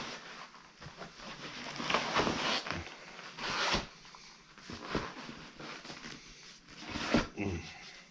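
Old upholstery being ripped off a K5 Blazer front bucket seat, repeated rasping tearing pulls of fabric and vinyl in several bursts, close and fairly loud with no speech.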